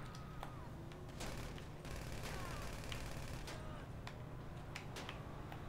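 Automatic gunfire in a video game heist mode, rapid crackling bursts and scattered single shots over a constant low background hum, with faint voices underneath.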